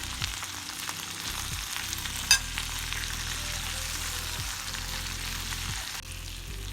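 Chopped capsicum sizzles in a hot pan for a chilli prawn dish, a steady, close, continuous frying hiss with one brief clink partway through.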